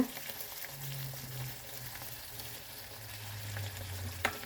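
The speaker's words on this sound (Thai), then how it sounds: "หลังจากนั้นเราก็จะใส่ข้าว และใบโหระพาลงไปผัดได้เลยค่ะ ผัดคลุกเคล้าให้เข้ากันนะคะ" Rice, green curry, shrimp and basil leaves being stir-fried together in a pan, giving a steady low sizzle and scraping that is closely miked, with one sharp clack of the utensil near the end.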